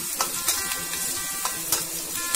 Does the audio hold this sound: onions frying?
yes